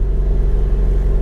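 A used car bought as a run-and-drive at a salvage auction yard idles just after starting, a steady close, low engine hum with a slight rhythmic pulse and no talking.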